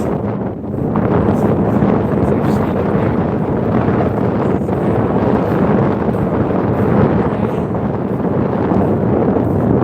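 Strong, cold wind roars and buffets the microphone continuously outdoors near dusk, a dense, loud rush of noise with no voices heard.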